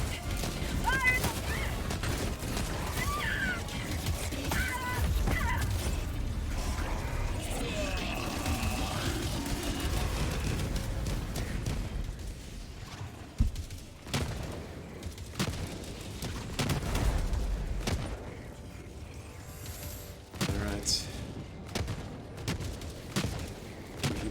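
Gunfire from the video game Helldivers 2, dense rattling bursts and booms filling a busy battle mix, with voices talking over it throughout.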